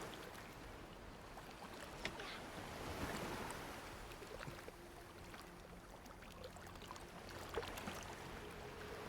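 A boat moving on water in a video game: faint, steady wash of water and wind-like rush with soft splashing swells.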